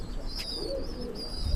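Imported pigeons kept for sale coo in low, soft rolling calls, close by, over a quiet room hum, with a few higher chirps and faint tones.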